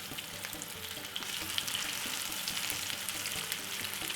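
Bread-crumbed fish fry in a shallow layer of vegetable oil in a pan, a steady close sizzle and crackle with scattered small pops and faint stirring sounds throughout.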